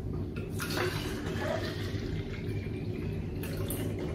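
Kitchen tap water running from a faucet into a filter, a steady soft rush with low gurgling and a few splashy bursts near the start and end, fairly faint.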